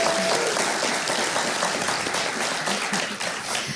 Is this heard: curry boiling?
no